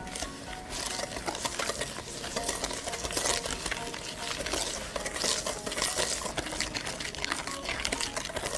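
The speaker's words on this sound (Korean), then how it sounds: "소금과 설탕을 넣고 서걱서걱 소리가 조금 줄어들 때까지 섞어주세요" Steady scraping and stirring in a bowl, a whisk working softened butter with sugar and salt, a continuous gritty rasp and light clinks, no talking.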